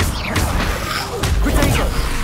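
Confringo blasting spell cast in Hogwarts Legacy, loud whooshing fiery bursts and crashing impacts tumbling together in rapid succession during combat.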